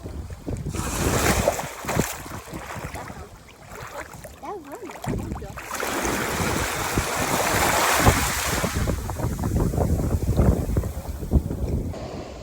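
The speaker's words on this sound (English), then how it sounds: "it was a very windy day with rain still lingering in there" Strong wind buffets the microphone over the steady roar of crashing surf at Okuma Beach, northern Okinawa, in typhoon weather with lingering rain, loud and continuous throughout.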